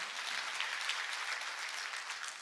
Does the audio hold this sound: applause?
yes